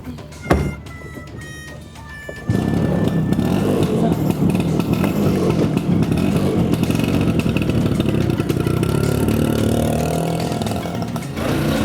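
A motorcycle engine starts with a brief crank, then keeps running loud and steady with a rough idle rumble that holds close by until the end.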